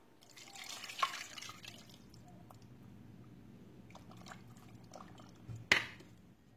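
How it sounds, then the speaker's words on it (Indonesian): Coconut water being poured over dried beef slices in a kitchen while preparing Minang-style dendeng batokok, a quiet liquid trickle with a few soft drips and a sharper splash near the end. "Kemudian tambahkan air kelapa."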